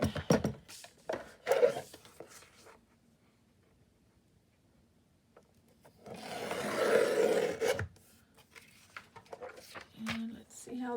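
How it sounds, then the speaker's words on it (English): A paper guillotine cutter slides and cuts through folded paper in a long, rough rasping stroke, preceded by scattered handling noises and brief rubbing sounds, with a voice speaking faintly in places. "And bring up my guillotine."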